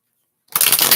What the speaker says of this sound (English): Valentis, I'm still shuffling for you, my dear.